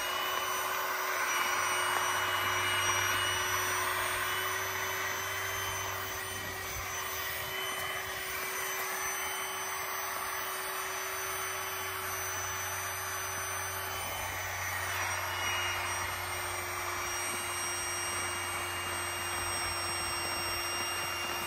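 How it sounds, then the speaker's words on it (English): Electric power pump for a Haven tent inflating an air mattress, a steady loud whirring drone that runs without a break for about twenty seconds. "The power pump, which Haven sell, makes blowing up this very comfortable mattress super easy."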